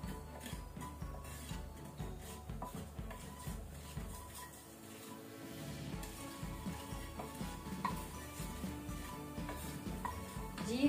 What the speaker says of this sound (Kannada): ಜೀರಾ ಸೀಡ್ಸ್ ಜೀರಿಗೆ, ಅದನ್ನು ಸ್ವಲ್ಪ ನೀವು ಫ್ರೈ ಮಾಡ್ಕೊಳ್ಳಿ ಮೀಡಿಯಂ ಫ್ಲೇಮ್ ಅಲ್ಲಿ